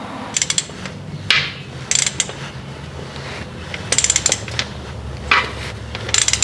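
Ratchet tightening the transmission pan drain bolt on a Chevrolet Colorado or GMC Canyon, short bursts of rapid metallic clicking repeated several times with brief pauses between strokes, close and distinct.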